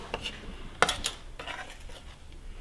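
Chopped garlic tipped into a small glass jar, with a few light clinks and scrapes of a utensil against glass over a low room hum.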